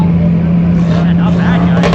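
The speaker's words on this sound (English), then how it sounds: "Alright guys, everybody's leaving now. All the cars getting out." Cars leaving a Cars & Coffee meet, a steady loud engine drone with a deep humming tone, as people talk nearby.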